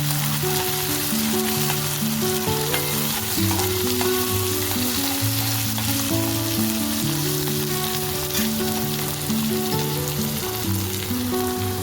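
Onions and tomatoes frying in a pan for a bombil bhaji, giving a steady, dense sizzle that stays close and even throughout, with no voices.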